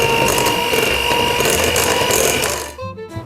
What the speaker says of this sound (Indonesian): Dan ini kita mixer pakai speed sedang saja hingga putih pucat.